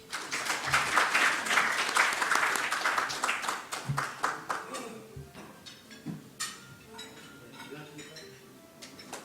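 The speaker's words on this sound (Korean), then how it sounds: "박수로 부탁드리겠습니다." A forum audience breaks into loud, dense clapping that peaks early and then thins to scattered claps as it fades, with a few clinking, dish-like sounds mixed in.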